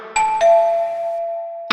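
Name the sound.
doorbell ringing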